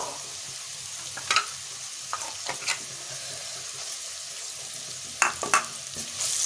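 Potatoes sizzle steadily in hot oil, a constant hiss broken by a few clinks and scrapes of stirring.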